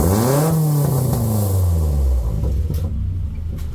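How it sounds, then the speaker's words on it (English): A 1995 Nissan pickup truck with a custom exhaust and 18-inch glasspack revs up loudly with a deep, throaty rumble, then settles back toward idle. "I got a custom exhaust setup,"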